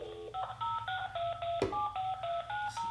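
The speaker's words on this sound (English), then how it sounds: "I have him on speed dial, so I gotta redial him and see if he answers and put him on speaker." A phone redials a speed dial number: a quick run of clear, close keypad dial tones in steady succession, broken by a single sharp click midway, with no voices.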